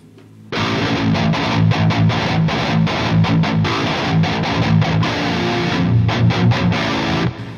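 A heavily distorted electric guitar through a stock Peavey 6505 high-gain amplifier with no overdrive pedal plays chugging chords and riffs, loud and dense, starting abruptly after a brief quiet moment and ringing out at the end.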